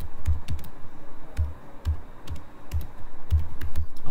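A campaign name is typed on a computer keyboard: a close, fairly loud series of key taps in an uneven rhythm with short pauses, and no voices.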